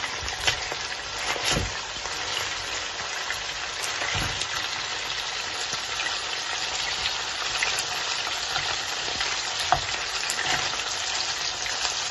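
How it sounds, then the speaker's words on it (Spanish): Pork ribs browning in a pan for a cabbage and bacon stew, giving a steady, close sizzle with scattered pops and crackles throughout. "Aquí solamente hacemos la carne, vamos a dorar y hacer un poco de sofrito."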